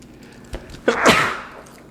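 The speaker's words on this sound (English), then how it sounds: "I got a sneeze coming on, pardon me." A man gives a single close, sharp sneeze, with a short intake of breath just before it and a burst of noise that trails off, in a quiet room.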